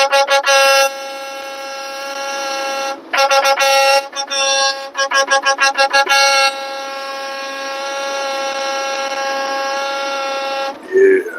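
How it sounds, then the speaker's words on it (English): A loud, blaring truck horn in a video game honks in long blasts and bursts of rapid repeated toots, with brief gaps between them. "I honked anyway."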